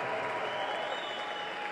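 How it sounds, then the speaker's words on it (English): Boxing crowd in a Manchester arena applauding as Danny O'Connor is announced in the ring, steady loud clapping and cheering from a large audience throughout, no voice on top. "the loud reaction to Danny O'Connor being announced to the crowd here in Manchester"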